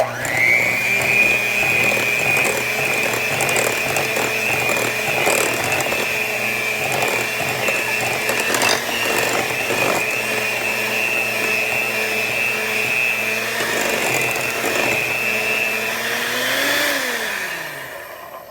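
An electric mixer whirs steadily at a constant pitch as it blends vanilla into banana nut bread batter, humming loudly without a break before winding down at the very end.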